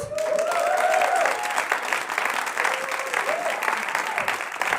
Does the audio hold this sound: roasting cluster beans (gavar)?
no